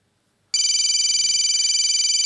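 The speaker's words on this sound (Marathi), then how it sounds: "फोन कर मला." After half a second of silence, a telephone on a Marathi TV comedy set starts ringing: a loud, close electronic trill that pulses rapidly and steadily, with no voices over it.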